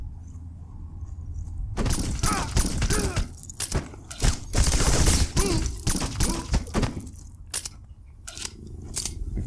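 Burst-fire assault rifle shooting in the game Black, with rapid clusters of sharp, loud cracks and a dense, noisy stretch in the middle, then scattered single reports near the end.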